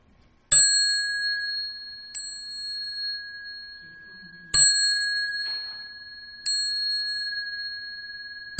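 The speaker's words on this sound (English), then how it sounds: "I didn't take the clang, the chime." A meditation chime is struck four times at spaced intervals, each a bright ringing tone that decays slowly, with a faint murmur between strikes.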